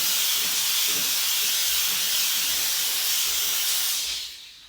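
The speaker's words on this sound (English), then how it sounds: "That is like steam cleaning a stove inside of it." Wagner Spraytech 915e on-demand steam cleaner blasting steam inside a stove, a continuous loud hiss that holds steady and then tapers off at the end.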